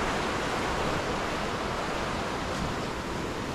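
Strong floodwater rushes under a bridge after a typhoon, a loud, steady, dense roar of churning water, continuous and close with no other sounds standing out.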